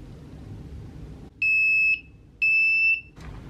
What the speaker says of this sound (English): There is an alarm when it finishes the cycle.